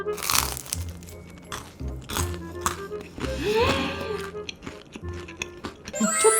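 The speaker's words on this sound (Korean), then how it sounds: "저는 크로플을 정말 처음 먹거든요" Crisp, slightly burnt croffle, croissant dough baked like a waffle and reheated in an air fryer, crunched up close in loud bites and chewing, with crinkling packaging and a person speaking between mouthfuls.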